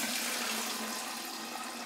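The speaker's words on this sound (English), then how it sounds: "So I'm going to strain this down." Fermented hot sauce brine poured through a strainer, a steady close rush of liquid splashing into a container, continuous and even throughout with no talking.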